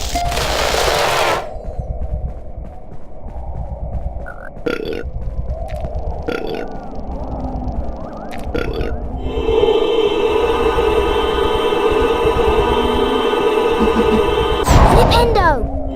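Spell effects from the Harry Potter and the Philosopher's Stone video game, with a loud burst of fire at the start and a sustained crackling, buzzing effect later, set over a steady low game background and occasional sharp hits.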